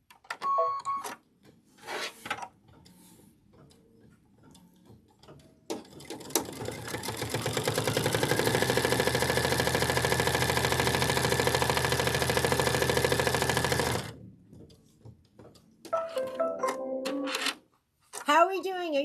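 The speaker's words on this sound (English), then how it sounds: "now it's going to sew the next one" An embroidery sewing machine stitches a tack-down on a pickle pie needle notebook, running steadily for about eight seconds of dense mechanical whirring, with brief talk and handling noises before and after.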